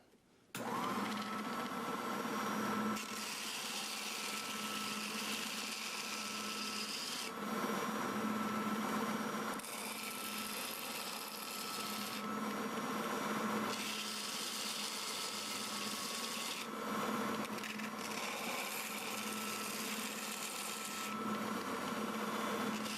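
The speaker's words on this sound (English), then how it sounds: "I'm getting ready to sand here." A sander grinds steadily against a laser-engraved rubber stamp, a loud continuous rasping whir with several brief shifts in pitch and pressure, no voices over it.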